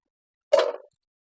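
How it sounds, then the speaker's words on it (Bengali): Cumin and coriander paste drops into a pan of spicy Bengali bogo fish curry, making one short, soft plop followed by silence. "এবার এর মধ্যে আমি জিরে আর ধনে বাটাটাও দিয়ে দেবো।"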